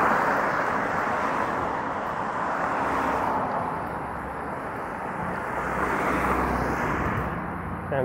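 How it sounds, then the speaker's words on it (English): Cars pass in traffic on a Toronto street near Bloor, heard from a moving bicycle as a broad, steady roadway roar that rises and falls with passing vehicles, mixed with wind noise. "There's a number of cars in the left lane."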